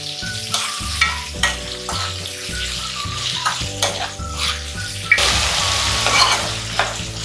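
Spiced bhakri muthiya mixture stirred and sautéed in a pan, with steady close sizzling broken by repeated scraping stir strokes and light spoon clinks against the metal, no voices.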